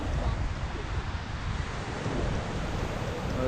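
Stormy Baltic Sea surf pounds the beach at Jarosławiec, a dense, continuous roar of breaking waves mixed with gusting wind buffeting the microphone, loud and steady throughout with no pauses.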